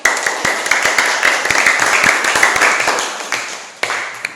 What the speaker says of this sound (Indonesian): Mari kita berikan tepuk tangan sekali lagi.